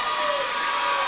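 A gym crowd cheers loudly at a girls varsity basketball championship game, a steady dense roar of voices with whoops and no break.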